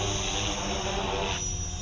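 An Align Trex 470LP radio-controlled helicopter, converted and on its maiden flight, hovers nearby with a steady high-pitched rotor and motor whine, constant and alone without any talk.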